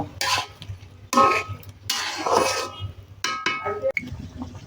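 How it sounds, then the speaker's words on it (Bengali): Bottle gourd with crushed shrimp is stirred in a pan in short bursts of scraping and sizzling separated by quieter gaps, loud and near, and no talking. "তো লাউর সঙ্গে চিংড়িটা আমি এখন কষিয়ে নিব"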